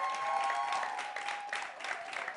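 Studio audience applause on a French television show, a steady wash of clapping throughout, moderately loud and unbroken.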